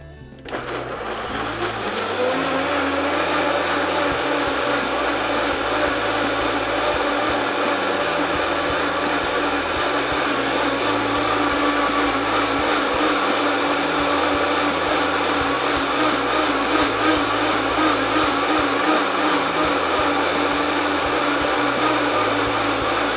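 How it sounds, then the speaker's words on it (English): A blender runs on high, pureeing mango with water, as a loud, steady motor whir with a constant churning hum that holds unbroken for the whole stretch after a brief start-up. "we're just gonna turn that bad boy on high until that mango is completely pureed"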